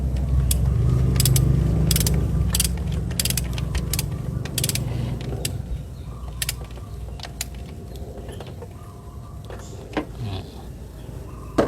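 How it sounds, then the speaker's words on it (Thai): A wrench ratchets in quick, repeated clicks while tightening the front drive belt of a Toyota Vios engine, close and fairly loud, growing sparser and quieter toward the end. "ขันให้แน่นไปก่อนนะครับก็ตึงมือไปก่อน"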